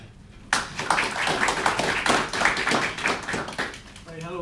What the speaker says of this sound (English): So first, a big round of applause for Sean Conroy.